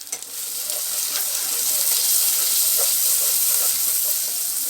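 Turmeric and chili powder sizzle loudly in hot oil in a pan while being stirred for chicken bhuna. The frying hiss is steady and close, with faint scraping from the stirring.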